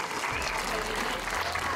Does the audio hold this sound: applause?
yes